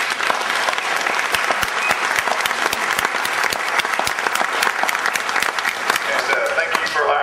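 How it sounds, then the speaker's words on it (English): A loud, close round of applause fills a theater after a sheriff forum, with crisp individual claps standing out over a thick, steady crowd clapping throughout. "Let's now give them all a big round of applause."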